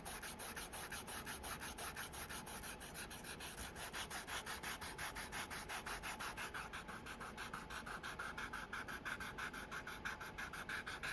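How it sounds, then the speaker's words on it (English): Edges of a leather trifold wallet are sanded in a steady, rapid back-and-forth rhythm of close, quiet rubbing strokes that continue without pause. "sand each side."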